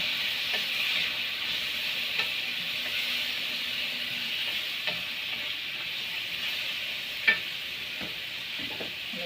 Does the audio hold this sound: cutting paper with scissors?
no